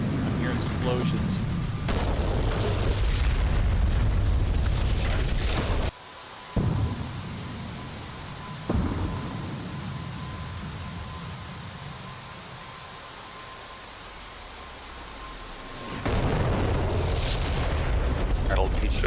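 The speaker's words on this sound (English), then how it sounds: "I'm hearing explosions." Explosions in the DCS F/A-18C Hornet flight simulator during JDAM bombing practice. Heavy rumbling booms rise over a constant roaring jet-cockpit noise, with a voice talking over it.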